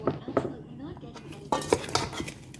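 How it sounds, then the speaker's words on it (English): Utensil clinking and scraping against a bowl while oil is mixed into seasonings for pork neckbones, several sharp knocks and clinks at an irregular rhythm, close by, with some speech-like sound in the background. "The last thing to go in is some oil. And then we're gonna mix this together."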